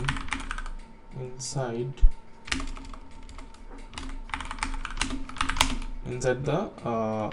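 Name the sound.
typing on a computer keyboard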